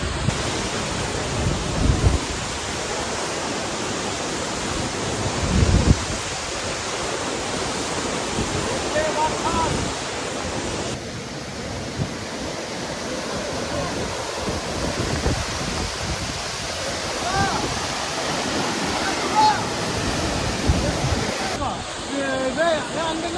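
Hebbe Falls in Chikmagalur roars as a loud, continuous, broadband wash of falling water heard up close, with wind gusting through and occasional faint voices beneath the rush.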